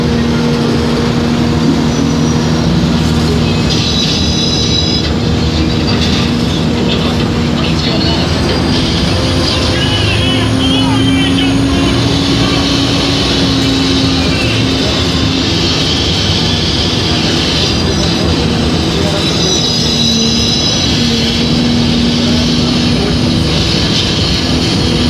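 An earthquake sound effect from the TV show Bones: a sustained, loud, broadband roar and rumble with groaning tonal swells that carries on for the whole stretch, with voices faintly mixed in.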